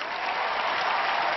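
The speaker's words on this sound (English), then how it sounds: "Give our spectators a big round of applause" Dense, steady applause from a theater audience at a magic show, loud and continuous without a break, no voices standing out.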